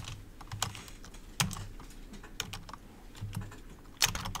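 Typing code on a computer keyboard during a live programming stream, with irregular clicks and a few sharper key strikes, close and fairly quiet.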